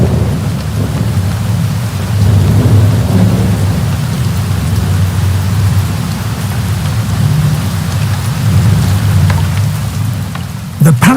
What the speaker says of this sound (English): Heavy storms are common here during the summer.